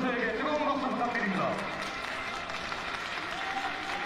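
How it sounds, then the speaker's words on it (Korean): Audience in a boxing hall clapping as a fighter enters the ring at a Korean 80 kg ranking bout, a steady wash of applause with a ringside commentator talking over it. "장내에서 뜨거운 박수와 함께 허선우 선수가"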